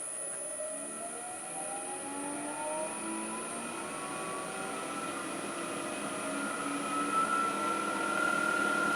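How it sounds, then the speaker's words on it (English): A wood lathe turning a zebrano bowl blank spins up to about 1200 RPM, its motor giving a steady close whine that climbs gradually in pitch over a constant hum, with no talking. "I'm going to turn the lathe on at about 1200 RPM to start with"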